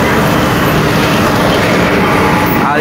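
A train at the Chandpur railway station produces a loud, constant roar and rumble that fills the whole stretch without a break.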